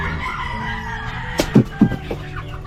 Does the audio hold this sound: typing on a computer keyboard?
no